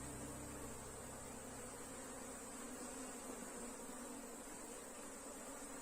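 A honeybee swarm buzzes steadily around a large queen bee while a colony is being split, a faint, continuous droning hum with no pauses and no voices.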